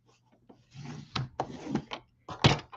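A scoring blade drawn along paper on a paper trimmer, making a few short scraping, rubbing strokes close by, with soft handling noises between them.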